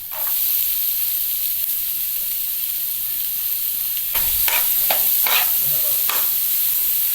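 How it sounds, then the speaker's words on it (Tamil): Onion, garlic and ginger sauté in a hot pan with a steady, close sizzle, broken near the end by several sharp scraping strokes of a spoon stirring the mixture. "இஞ்சியும் பூண்டும் பாதி வதங்கினதுக்கப்புறம் வெங்காயத்தையும் சேர்த்து நல்லா வதக்கிக்கோங்க."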